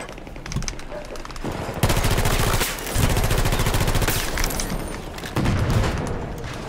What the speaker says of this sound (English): Shooting rockets at me,